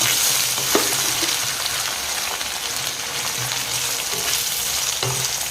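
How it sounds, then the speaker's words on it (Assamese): Potatoes fry in a small wok with a constant, fairly loud sizzle and crackle. Occasional scrape-and-knock stirring sounds break in, and no voices are heard. "এতিয়া মই আলুখিনি ভাজি ল'ম প্ৰথমতে অলপ।"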